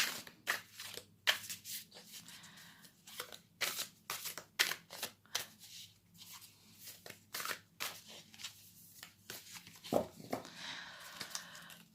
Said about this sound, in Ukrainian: зараз дивимося, докладаємо карти на березень